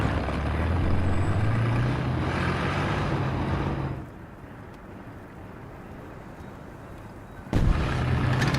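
Heavy cannon fire in the video game Metro 2033 gives a loud, sustained low rumbling roar that drops away midway to a quieter hiss, then returns abruptly near the end.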